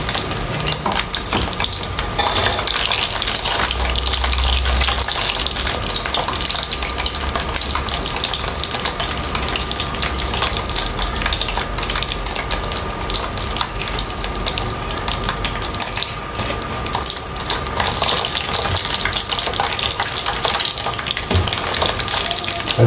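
Sardine pempek fish cakes frying in hot oil, a steady dense sizzle and crackle running continuously and loud throughout, with no voices.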